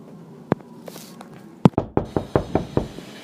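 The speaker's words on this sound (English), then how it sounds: "a man knocked on the door." Knuckles rap on a door, one early knock and then a quick run of about six firm, evenly spaced knocks, close and loud with no talking.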